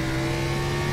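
Race car engine in a racing video game, held at full throttle out of a corner; a loud, steady engine tone fills the whole moment with no talking.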